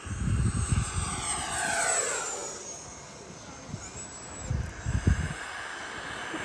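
An XFLY T7A 80mm electric ducted-fan RC jet model flies past, its loud whine sweeping in pitch as it passes and then fading, with a few low thumps and brief voices.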